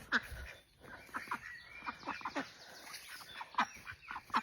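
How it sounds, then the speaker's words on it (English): Farm ducks quack and chatter in a small flock, a scatter of overlapping short calls at moderate volume, close by and continuous. "Come on, duckies. Oh, there you are."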